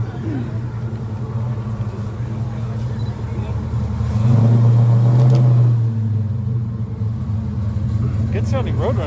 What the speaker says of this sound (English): Good sounding Roadrunner.